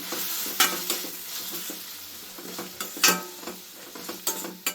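Coriander, curry leaves and mint fry in a pan after the stove is switched off, giving a soft, fading sizzle with intermittent scrapes and light clinks of a spatula stirring, and no talk.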